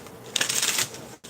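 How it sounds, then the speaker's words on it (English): A quick riffle of tarot cards being shuffled, close and crisp, lasting about half a second before a brief pause. "One more shuffle, last shuffle."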